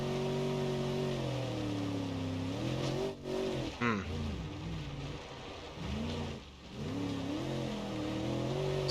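A race car in BeamNG.Drive laps the Endurodrome endurance track with a damaged low front end and off steering, its engine droning and revving up and down in steady waves, with brief dips as it lifts off.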